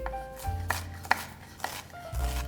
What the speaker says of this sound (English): onions, finely dice them.